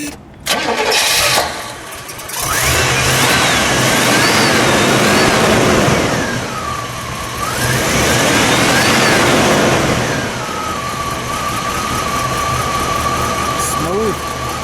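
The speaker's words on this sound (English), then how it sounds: "Well, let's fire it up." A 1974 Oldsmobile Delta 88 Hurst/Olds pace car cranks and fires up, revs a couple of times, then settles into a steady idle, loud and close, with people talking.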